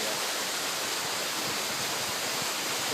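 A waterfall being climbed gives a loud, constant rushing roar of falling water, close by and steady with no break or voices.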